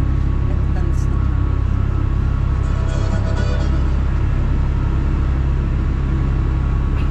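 A small tourist train rolls through Vaduz, Liechtenstein, its steady low rumble and drone filling the scene continuously, with faint higher clatter over the top and no clear distinct events.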